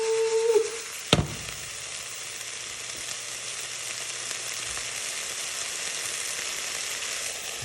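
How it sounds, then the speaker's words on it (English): Steady, loud sizzling of food frying in a pan, preceded by a brief clatter and a short tone, then continuing evenly throughout. "that thing is sizzling"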